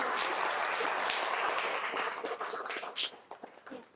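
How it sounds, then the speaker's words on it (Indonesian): Applause from a room full of people, dense and steady at first, then thinning into scattered claps that trail off near the end. "tepuk tangan untuk kelompok"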